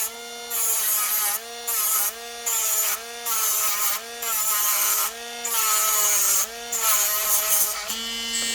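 A small rotary tool spins polishing discs against a silver pendant, a high whining buzz that rises and dips in pitch in repeated bursts about a second long, loud and close.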